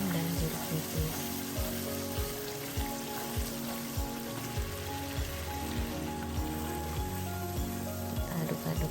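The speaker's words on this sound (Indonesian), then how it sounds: "Lalu kita masukin cumi yang sudah kita beri garam dan jeruk nipis." Squid seasoned with salt and lime frying with spices in a pan, a continuous crackling sizzle like light rain with faint clinks and stirring, no speech over it.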